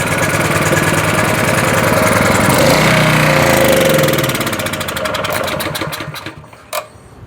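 A petrol generator, likely with stale fuel, cranks and catches with a loud sputtering, rattling engine that runs unevenly for several seconds, then dies away with a last sharp pop.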